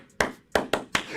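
Four sharp, close hand claps from baseball fans at a Rangers–Yankees game, spaced irregularly in a short rhythmic pattern with brief room reverb after each.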